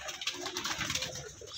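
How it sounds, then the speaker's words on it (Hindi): Soft, murmuring coos from pigeons kept at home, close by and overlapping as they crowd onto feed, with faint rustling in the background. "इनके माशाल्लाह खूबसूरत कबूतर आपके सामने"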